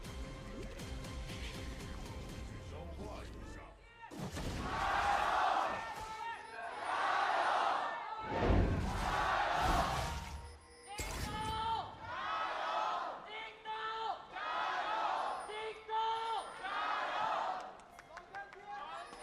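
A large esports arena crowd in Beijing chants in rhythmic, repeated bursts, loud and reverberant, with a commentator's voice talking over it.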